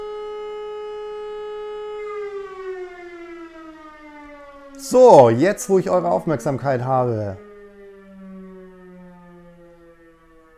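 A civil defense siren on a neighboring rooftop holds a steady wailing tone, then slowly falls in pitch and fades, with someone talking over it partway through.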